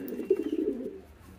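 A king pigeon on a farm gives a short, throaty coo of a few rolling pulses, close and clear, with no voices.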